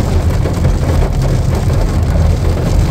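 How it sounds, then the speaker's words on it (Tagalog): Heavy rain drums steadily on a vehicle driving the winding Zigzag Road near Lucena in Quezon province, a dense, constant patter that stays loud and close throughout, with no talking. "sana naririnig yung patak ng ulan, ang lakas"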